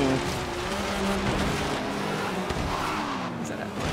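A freshly built car races in Forza Horizon 3, its engine droning steadily and close for the whole stretch, with shifting pitch and a faint hint of tire noise underneath.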